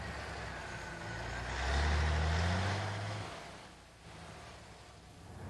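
A CLOV 1000 truck pulls away and accelerates, a low engine note swelling and rising in pitch for a few seconds before easing off, heard fairly faint and at some distance.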